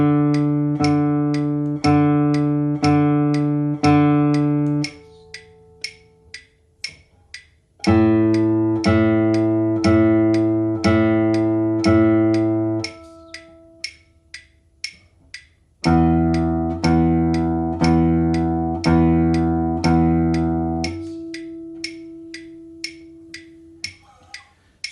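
Classical guitar rest strokes played as a right-hand exercise: groups of evenly spaced plucked notes, with a steady metronome click ticking throughout and short pauses between groups, close and without talking.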